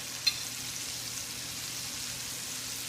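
Butter melting onto hot pan-seared steaks gives a soft, steady, even hiss, fairly quiet and close, with one tiny click near the start.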